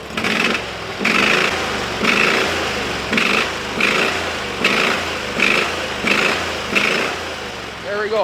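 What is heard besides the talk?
Briggs & Stratton V-twin 20HP engine running on Sears loader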